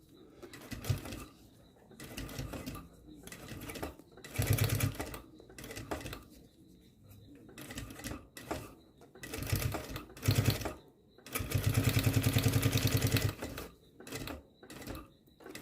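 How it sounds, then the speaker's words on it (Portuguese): Sewing machine stitching fabric for a school pencil case, running in several short bursts and one longer steady run near the microphone, with quiet handling noises in between. "a gente começa a costurar, tá?"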